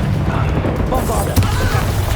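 The Bombarda blasting spell going off in Hogwarts Legacy, a loud, dense burst of booming game effects with crackling debris that runs for a couple of seconds.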